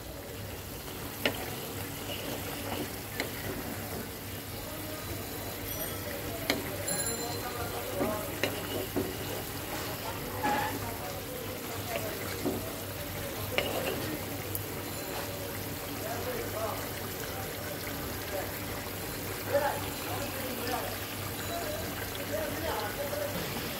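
A curry simmers in a pan, its steady, quiet sizzle and bubbling continuing without a break.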